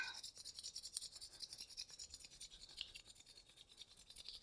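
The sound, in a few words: rubbing the palms together quickly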